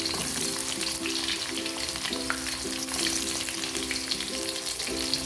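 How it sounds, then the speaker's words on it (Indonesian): Shallots frying in already-heated oil, a constant bright crackling sizzle up close with soft repeated scraping of stirring, no voices over it. "Kebetulan saya udah manasin minyaknya ya. Masukin bawang merahnya ya."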